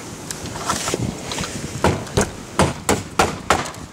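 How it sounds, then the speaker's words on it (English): A hammer drives aluminum siding nails outdoors in the rain, a run of sharp close knocks that comes more often toward the end, over a steady hiss of rain and wind. "When you're driving these aluminum siding nails, you can see they bend over pretty easily."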